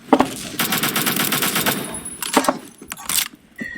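Automatic assault rifle fire in the first-person shooter Phantom Forces, a loud continuous burst of rapid shots for over two seconds, then a shorter burst and a few scattered follow-up shots, with no talking.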